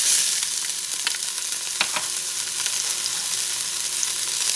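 Onion frying with bison oxtail in a pot over medium-high heat, giving a loud, steady close-up sizzle with a few faint scraping stirs and no talk.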